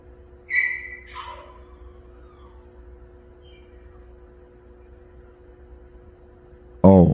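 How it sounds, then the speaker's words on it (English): A small dog gives a brief high whine inside a morgue, then quiet with a low steady hum, before a sudden louder noise at the very end. "that sound you're hearing is little Juju, the dog"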